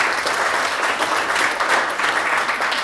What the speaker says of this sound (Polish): Krzysia, wielkie, wielkie brawa